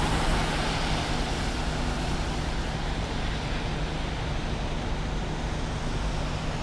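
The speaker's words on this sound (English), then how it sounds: "Cars here coming in off the Manhattan Bridge in the distance." Broad steady roar of city traffic at a Manhattan intersection near Grand Street, cars coming off the Manhattan Bridge in the distance, a constant wash of engine and tire noise with no voices.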